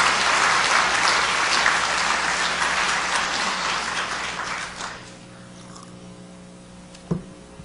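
A lecture audience breaks into dense applause during a political speech. The clapping is loud, then fades out over about five seconds, leaving a quiet hall with one brief knock near the end.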